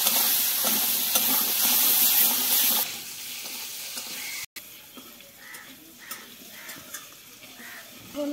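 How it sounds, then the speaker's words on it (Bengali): Potatoes frying in a pan with turmeric and salt, a loud bright sizzle that suddenly drops to a quieter crackle with stirring and occasional clinks, no talking. "আমার আলুটা ভাজা হয়ে গেছে"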